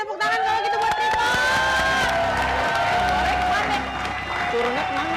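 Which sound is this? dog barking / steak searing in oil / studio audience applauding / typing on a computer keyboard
studio audience applauding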